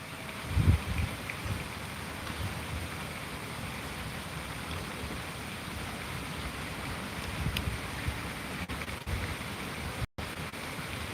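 Steady rain falling at an outdoor tiger enclosure, a continuous even hiss of drops with a brief louder rustle near the start and a short dropout near the end, no talking.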